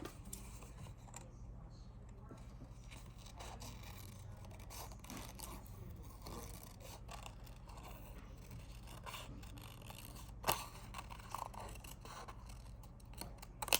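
Scissors snip paper to cut out a shape, faint intermittent crisp cuts and light rustling over a quiet room hum, with a couple of slightly louder snips near the end.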